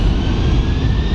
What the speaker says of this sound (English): Ah, listen to those engines.